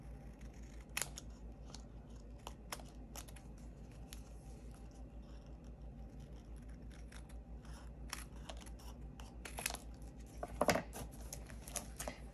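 Scissors trimming the sides of card paper for a handmade birthday card: repeated crisp snips, close and quiet over a low steady hum, with a few faint paper rustles.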